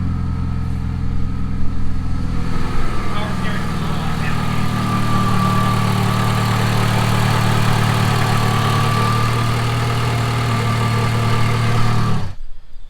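A PT Cruiser race car engine turns over and settles into a steady, loud, smooth idle that runs for several seconds before cutting off abruptly at the end.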